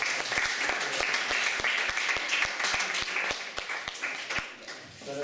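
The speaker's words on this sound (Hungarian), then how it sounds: "egy tapsot azt hiszem megérdemelhet" A lecture-hall audience at a Hungarian physics teachers' event claps for the speaker, with full sustained applause and some sharp individual claps standing out before it thins near the end.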